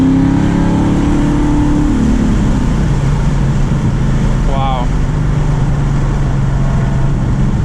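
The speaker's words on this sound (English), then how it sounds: "it sounds like a completely different car, but I like the noise" A cammed Dodge Challenger Scat Pack engine accelerates, a loud, rough low rumble that climbs in pitch and then settles, heard from inside the car with a voice speaking over it.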